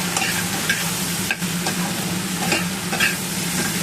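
A spice-coated mixture with turmeric, salt and chili paste fries in a pan with a dense, close sizzle, punctuated by rhythmic scraping strokes of a stirring spoon about every half second, no voices.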